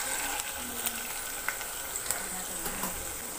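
Ginger garlic paste sautéing over medium flame in a pan for anda masala, a steady close sizzle and crackle with light scattered stirring clicks throughout.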